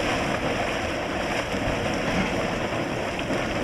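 Volcanic hot springs at the Furnas caldeiras in the Azores, a steady broadband roar of bubbling, boiling water that holds an even level throughout, with a windy outdoor hiss over it and no voices.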